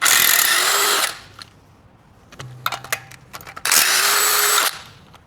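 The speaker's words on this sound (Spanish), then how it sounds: "Entonces vamos a quitar el tornillo acá adelante." A power tool removes the 17 mm front bolt of a Suzuki radius arm during a suspension swap with a Rough Country kit: two loud, sustained whirring bursts with quieter clanking and tool handling between them.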